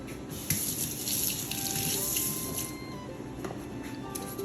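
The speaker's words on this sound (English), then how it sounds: "I'll rinse my knife off again." A kitchen knife is rinsed under a running tap while making sushi rolls, a steady broad hiss of flowing water with a few splashy bursts and faint drips, continuous and close throughout.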